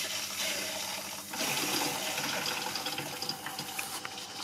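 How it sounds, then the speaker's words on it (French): A Lidl Silvercrest mini dishwasher fills with water on its 30-minute express program, a steady rushing, hissing flow with a slight shift partway through, continuous and moderately loud. "Donc là on entend qu'il se remplit d'eau."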